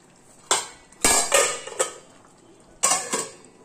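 A metal lid clatters onto a curry cooking pot in a few sharp clanks and scrapes, nearby and fairly loud, with short gaps between the knocks.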